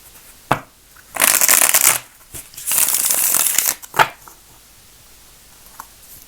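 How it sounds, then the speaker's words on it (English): Two long riffling bursts of cards being shuffled, bracketed by a few sharp taps and clacks of the deck, close and crisp. "All right, last shuffle."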